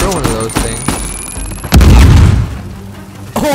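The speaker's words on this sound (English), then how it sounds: "Explosion." An explosion in the video game Uncharted 4 bursts out as a loud, deep boom partway through and rumbles away over about a second. Players talk excitedly before and around it.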